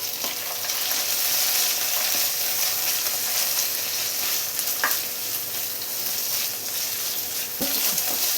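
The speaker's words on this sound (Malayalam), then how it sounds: "ഇപ്പോൾ തക്കാളിയും പച്ചമുളകും എല്ലാം ചെറുതായിട്ടൊന്ന് വഴറ്റിയെടുത്തിട്ടുണ്ട്." Tomato and green chili sautéing with onions in a pan for a chickpea kurma, giving a steady close frying sizzle with a few faint clicks of stirring, no voices.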